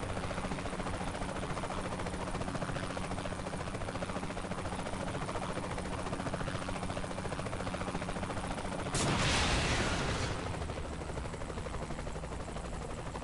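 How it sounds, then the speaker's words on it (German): Helicopter in the video game Saints Row: The Third, a steady dense rotor and engine drone that runs throughout, with a brief louder burst of noise near the end. "Wieso fliegt denn der Heli auf einmal so schnell?"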